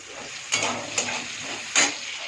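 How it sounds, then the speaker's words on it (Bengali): Potatoes fry in a pan with a steady soft sizzle, broken by a few brief louder bursts of stirring or scraping, close and fairly quiet. "আর এদিকে হচ্ছে আলুটা ভাজছি"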